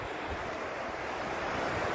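Sea waves wash steadily onto the shore in a dense, continuous roar with no distinct breaks, loud and close, mixed with wind buffeting the microphone and no voices.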